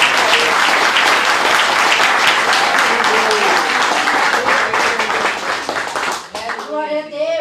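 A church congregation applauding, dense sustained clapping from many hands filling the room for several seconds before fading, with a voice speaking as the applause dies away.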